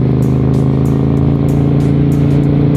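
A 1992 Honda Shadow 400 cruiser motorcycle exhaust rumbles steadily up close, a loud, continuous low drone with pulsing firing beats and no break.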